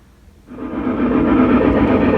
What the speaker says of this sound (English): And now it's time to run some trains.